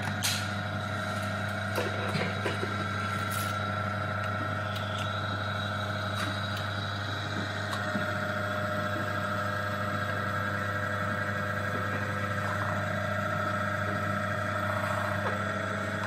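Electric motor controlled by a magnetic contactor runs with a steady, close tonal hum and whine that holds throughout, with a few faint clicks and knocks on top and no talking.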